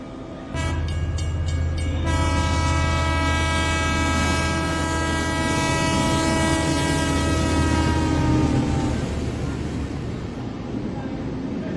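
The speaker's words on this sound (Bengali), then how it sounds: "ট্রেন আসতেই ট্রেনে উঠে পড়ল অতনু।" Cartoon train arriving and running, with a loud sustained horn blast sounding over the rumbling, clattering wagons before it fades into the steady roll of the train.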